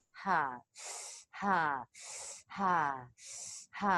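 Rhythmic guided breathwork: loud, forceful inhales alternating with long breathy exhales, about three full cycles, close and with no speech.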